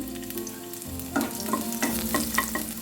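Chopped garlic fries in a tablespoon of soybean oil, a close, continuous sizzle and crackle with a low hum beneath and several sharp spatula taps against the pan, no voices.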